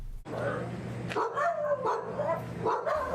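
Several dogs at the St. Landry Animal Control Center in Opelousas bark and yip in overlapping bursts, fairly close and steady throughout, with a busy kennel din behind them.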